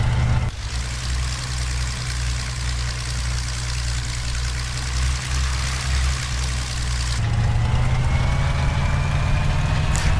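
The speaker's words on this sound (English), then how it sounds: "Really nice sound for the engine here." A loud, steady engine drone from a P-40C aircraft in the game IL-2 Tuskegee Airmen, with a deep rumble and broadband roar; after a sudden shift the tone rises slightly and keeps running.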